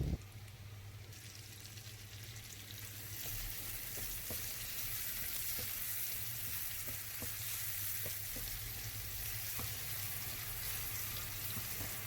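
Cubed mushrooms fry with garlic and onion in a pan for creamy macaroni pasta, a constant close sizzle that grows louder after a few seconds, dotted with light stirring clicks.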